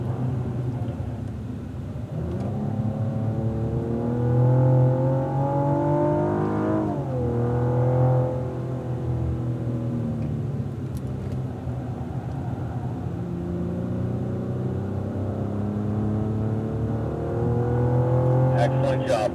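A 2016 Cadillac ATS-V accelerates around the Circuit of the Americas race track, its engine note rising through revs in strong sweeps, briefly dropping between gear changes, heard from inside the car.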